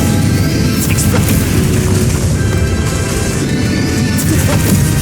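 Bombarda spell explosions from the final Ranrock battle in Hogwarts Legacy: loud, dense blasts and crashing impacts that keep up a steady barrage for the whole stretch, with no clear pauses.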